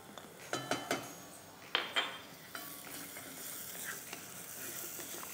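Chopped onions and minced garlic hitting hot olive oil, a few sharp clinks of a utensil against the pan followed by a soft, even sizzle that settles in, close by and fairly quiet.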